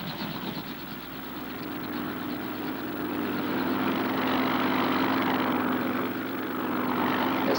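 Aircraft engines drone steadily at a distance over open sea as a patrol plane and a helicopter gather over a splash area before dawn. The hum slowly swells louder and then eases back, with no voices over it.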